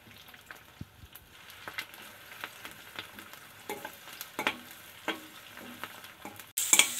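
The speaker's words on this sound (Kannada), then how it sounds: "ಇದೊಂದು ಸ್ವಲ್ಪ ಫ್ರೈ ಆಗಬೇಕು ಆನಿಯನ್ನು" Chopped onion fries in oil, giving a quiet sizzle broken by scattered scraping taps and stirring clicks, and a louder burst comes near the end.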